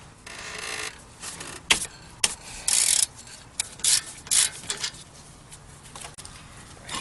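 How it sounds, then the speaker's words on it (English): A wrench works on a brake caliper bolt on an Acura Integra, giving close, irregular metallic scraping and ratcheting bursts with short sharp clicks between quieter gaps. "loosen this bolt right here and the one in the bottom, and you'll be able to get the brake pads out"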